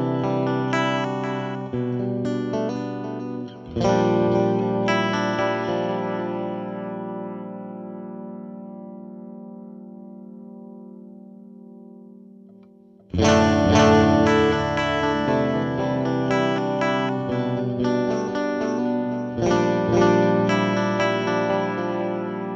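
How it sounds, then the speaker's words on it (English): Electric guitar played through a New Neighbor Audio Echelon Hi-Fi Tape Echo delay pedal: strummed chords whose repeats trail off into a long fading echo tail, then another loud round of strumming with echoes, heard alone. "First up is the Hi-Fi Tape Echo, which is derived from Echelon version 1 and is identified by the yellow LED."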